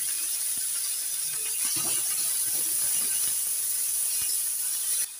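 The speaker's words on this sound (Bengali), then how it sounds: "এবার দিয়ে দিচ্ছি পেঁয়াজ বাটা," Onion paste hits hot oil already tempered with cumin for an egg and eggplant curry, giving a steady, close hissing sizzle that runs evenly for about five seconds with no voices.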